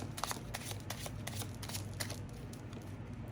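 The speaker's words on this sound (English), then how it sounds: "There are many ways to shuffle our deck." Cards being shuffled in quick riffling bursts, a steady crisp flutter of paper edges close to the microphone with no talking.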